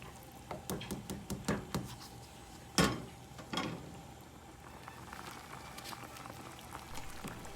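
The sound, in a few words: water boiling for pasta with canola oil and salt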